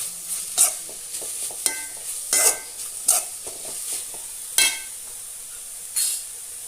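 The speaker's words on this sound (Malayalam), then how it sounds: "മഞ്ഞൾപ്പൊടി ഇട്ട് നല്ലതുപോലെ ഒന്ന് മിക്സാക്കി കൊടുക്കാം." A frying mixture dusted with turmeric powder is stirred in a pan, a spatula scraping and clinking in short irregular strokes over a soft background sizzle.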